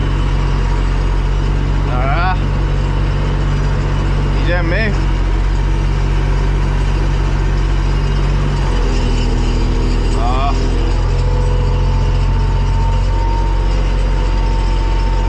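A tractor engine drones loud and close at high revs while pulling a subsoiler through a field, a steady heavy rumble throughout with a man's brief speech over it.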